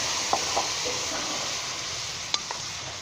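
Boiled, tenderized chicken liver and gizzard hit a hot pan, giving a steady close sizzling hiss with a few soft clicks from stirring.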